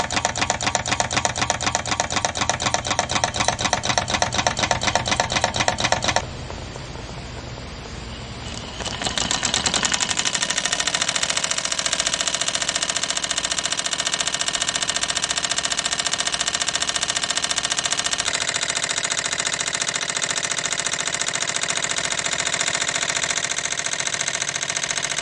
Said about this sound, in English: This person created a Stirling engine made out of soda cans and a candle.